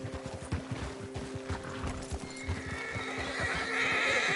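A video game horse whinnies over a steady run of clip-clopping hooves, with a bright neigh rising toward the end and no talking.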